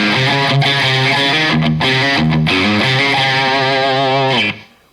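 Electric guitar driven through a Golden Horse overdrive pedal into a Riverside drive pedal and a Trinity Amps Triwatt amp: a loud, saturated, distorted riff of sustained chords and notes, played alone before it cuts off at the end.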